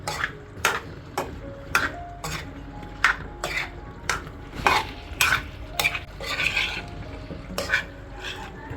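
A spoon stirs and mashes food in a pot with a series of sharp, evenly spaced clacks against the pot's side, close and moderately loud, over a faint background hum.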